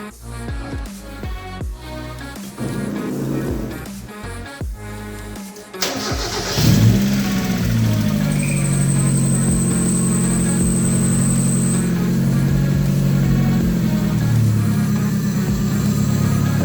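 A 1993 Mazda Miata NA with newly installed CX Racing headers cranks and fires up, then idles loud and steady close by. Brief revving follows before it settles into a continuous rumble.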